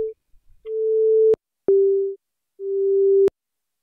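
Liven XFM synthesizer sounds a steady FM tone in separate held notes, each rising then stopping with a sharp click, quiet gaps between them, close and clean without speech.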